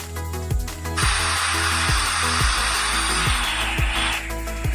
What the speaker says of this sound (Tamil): ஆற்றுல தண்ணி போகிற மாதிரி சவுண்டாக இருக்குது ஃப்ரெண்ட்ஸ்.